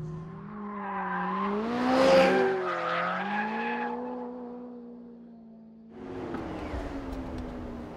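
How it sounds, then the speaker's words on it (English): A McLaren 570S in 4th gear sliding sideways through the final corner at Portimao circuit: a loud engine tone that climbs, then falls, with tire squeal, a brief near silence, and then a rough burst of noise as power returns. "So final turn at Portimao, 4th gear, fully cranked over and sideways."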